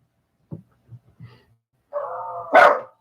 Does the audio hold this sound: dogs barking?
yes